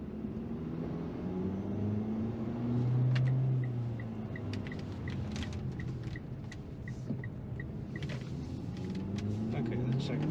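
A 2022 Mitsubishi Eclipse Cross SEL compact SUV pulls away in manual mode in first gear, its engine note rising and holding steady under cabin rumble, with a few faint clicks and someone speaking over it.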